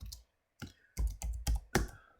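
Keystrokes on a computer keyboard while entering product price and stock values into an e-commerce backend tool, heard as short clustered bursts of clicking after a brief pause, close and fairly quiet with no talking.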